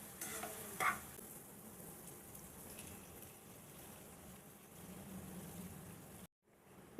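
Fresh fish drops into a frying tomato masala for a spicy fish curry, giving a steady close sizzle with a short clatter near the start, then cutting off abruptly before the end.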